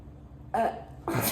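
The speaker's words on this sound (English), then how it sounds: "I'm going to test your gag reflex." Two short, rough throat noises close to the listener, like gagging or retching, separated by a brief pause, from a patient during a gag reflex test in a clinical swallow examination.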